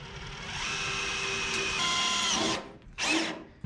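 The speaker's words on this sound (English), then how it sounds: "Step three, drill your pilot hole." A drill whirs steadily for a couple of seconds drilling a pilot hole in metal on a 1977 Datsun truck, then stops, followed by a short second burst of drilling before trailing off.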